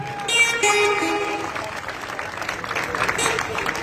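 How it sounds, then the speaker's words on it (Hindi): Crowd applause in a stadium in Chhatarpur honoring corona warriors at a sports event, steady clapping rising under someone speaking, with a few musical tones mixed in early. "हम उनका तालियों से सम्मान कर ही सकते हैं।"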